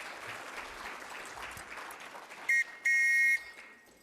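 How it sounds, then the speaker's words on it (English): Audience applause at a programme relaunch ceremony, a moderate, steady patter of clapping that carries on for a few seconds, cut by two short, loud electronic tone bursts near the end before it fades. "Another round of applause for her."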